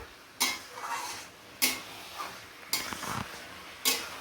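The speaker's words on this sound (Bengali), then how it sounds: "এইবার হবে কষানো শুরু।" A spoon or spatula scrapes around a cooking pot as food is stirred and fried, four separate strokes spaced about a second apart, each a short, bright scrape over a quiet background.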